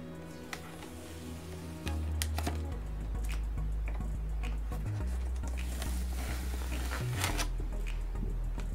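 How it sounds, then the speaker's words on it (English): Permanent black vinyl being peeled off a Cricut-cut sheet, a close crackling and ticking of the backing pulling away in uneven bursts over a low steady hum. "So now what I'm going to do is go ahead and peel off the vinyl."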